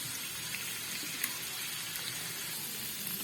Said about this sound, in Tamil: ஒரு பச்சை மிளகாய், ஒரு 4-5 பல்லு பூண்டு அதையும் போட்டு நல்லா வதக்கிக்கோங்க